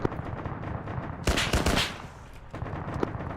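Gunfire rings out during an Arma co-op match on the Zargabad map: a quiet background of scattered shots, then one loud, close burst lasting about half a second before fading back.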